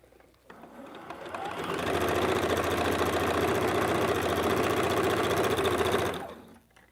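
Sewing machine running steadily with a fast, even mechanical chatter while stitching batik paper string quilt blocks, close and loud, ramping up, holding for about four seconds, then stopping, without talk.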